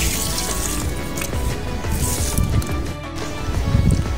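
Water pours steadily over potted plants, a dense continuous splashing and trickling rush with drips throughout, fairly loud and close with no speech.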